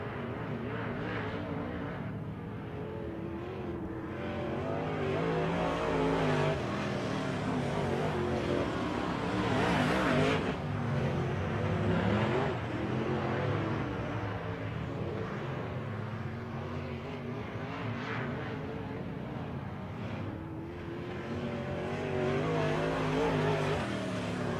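WISSOTA Modified race cars lap a dirt oval at Lake of the Woods Speedway, engines roaring continuously with rising and falling revs as the pack circles, loud and sustained.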